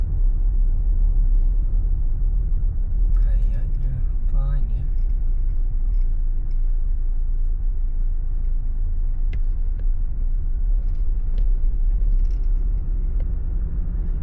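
A large monster truck rumbles along a road on a provincial road trip, a steady loud low drone heard from inside a moving diesel car, with brief talk partway through.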